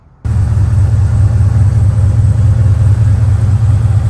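A supercharged Chevy LT4 6.2-liter wet-sump V8 in a 1954 Ford F-100 Speed-Tech custom pro-touring truck idles steadily after a quiet first moment, with a loud, deep, even rumble close by.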